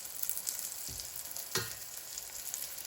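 Fried green tomatoes keep sizzling in a pan after the heat is switched off, a steady bright hiss of hot oil broken by two soft low thumps, close up and without talk.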